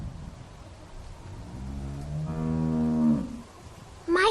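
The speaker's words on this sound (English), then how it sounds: "How do you like that cow, Clint?" A cow in The Walking Dead video game gives a long, loud moo that swells and then breaks off, heard alone and close, followed by a brief sharp sound at the end.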